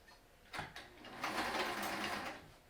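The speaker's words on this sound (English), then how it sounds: "we're going to sew all the way across the bottom, all the way, because it's a little quicker than to stop and start" A sewing machine stitching straight across the bottom edge of a fabric mask, a few brief starting whirs, then a steady fast mechanical hum, close but fairly quiet, with no speech over it.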